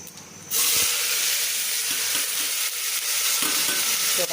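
Washed vegetables hit hot tempering oil with a sudden loud sizzle that stays strong and steady, with a few stirring scrapes, close up and no talking.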